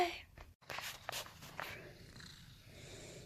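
A house cat purrs softly and close on a rainy day, a faint low rumble with a few brief rustles and bumps near the start.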